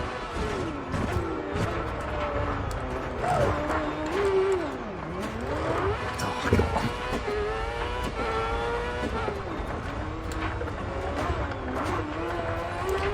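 A rear-wheel drive Land Rush race car engine in DiRT 4 revs hard, rising and falling continuously with gear changes, tire noise and an occasional thud, loud and close throughout.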